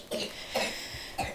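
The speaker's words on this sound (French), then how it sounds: "il tousse encore" A child coughs three times in short, separate bursts, close and fairly quiet indoors in a bedroom, with no talking.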